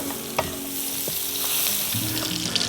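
Butter and garlic sizzling in a pan, a bright continuous hiss with a few light clinks and stirring scrapes, close and alone without speech.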